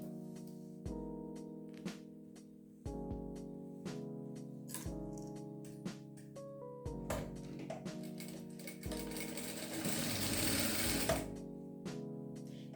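Domestic sewing machine stitching a crazy-patchwork fabric coaster, sewing mitred corners: steady mechanical whirring in several separate runs, each started and stopped, louder and busier near the end, with no talk.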